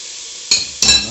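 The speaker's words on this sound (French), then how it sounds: "moi je remue entre les deux" Beef bourguignon browning in a pot as flour is stirred in, with two short bursts of scraping and clinking from a utensil against the pot over a steady soft sizzle.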